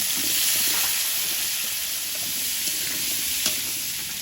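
Ginger, garlic, yam and potatoes fry in a pan with a loud, continuous hiss and sizzle. A few light stirring knocks cut through, and no one speaks.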